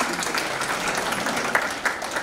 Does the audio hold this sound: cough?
no